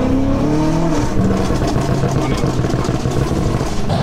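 A powerful BMW M5 Competition engine, 820 hp, roaring as it accelerates hard in third gear, loud and close, with wind and road noise mixed in and a voice speaking over it.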